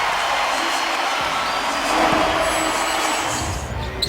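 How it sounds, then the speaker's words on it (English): Basketball arena crowd at Chesapeake Arena roars and cheers in a dense, loud, sustained wash of noise during an NBA game, with no breaks across the few seconds. "listen to this crowd at Chesapeake Arena"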